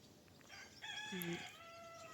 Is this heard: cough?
no